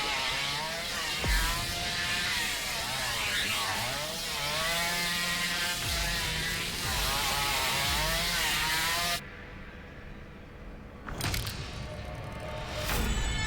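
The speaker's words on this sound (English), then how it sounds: "And now Bubba's doing his chainsaw dance." Bubba's chainsaw in the Texas Chainsaw Massacre video game, a steady buzzing motor whine with pitch swells as he dances, running loud and continuous for most of the stretch before cutting out near the end amid other game noises.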